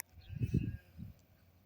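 Goats and dumba sheep in a pen in Saudi Arabia give a short bleat followed by a fainter second call, with a quiet hum in the background.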